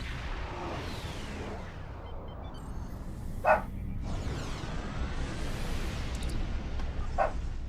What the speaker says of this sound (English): Also sorry if you hear